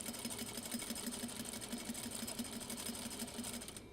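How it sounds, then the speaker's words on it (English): A home sewing machine runs steadily throughout, a close, even mechanical whir with a fast repeating stitch pulse, no voices over it. "I feel like my sewing machine is not threaded correctly, but it should be."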